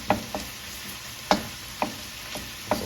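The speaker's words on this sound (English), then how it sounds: "That's why I like to kind of saute it." Tomato paste and garlic sautéing in a pan for chicken and sausage pasta, a soft continuous sizzle punctuated by several sharp utensil taps and scrapes against the pan, close and with no talk.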